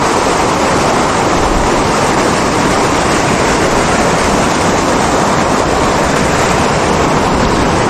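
A loud, continuous roar of rushing water fills the whole stretch, steady and unbroken, from a river swollen by heavy rain flowing close by.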